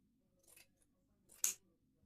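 Scissors cutting folded fabric for a frock yoke, two sharp close snips, the second louder and crisper, in a quiet room.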